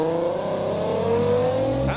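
Modified Nissan GT-R driving past at a car meet, a loud, close engine note rising in pitch as it accelerates by, with a sharp change at the end as it passes.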